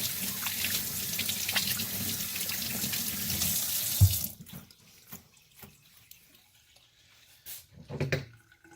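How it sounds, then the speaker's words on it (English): Hands rinsed under a running tap while processing rabbits: a steady rush of water for about four seconds, then the flow stops and a few scattered drips and small handling knocks follow in near silence. "I just kind of rinse my hands off so that they're not quite so slippery."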